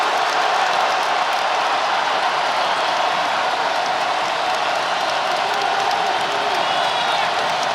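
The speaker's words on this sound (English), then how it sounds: "Here comes the crowd" Loud, steady crowd roar fills the arena at an Ohio State at Illinois Big Ten men's basketball game in February 2022 as the home team cuts into the lead. The dense cheering holds without a break throughout.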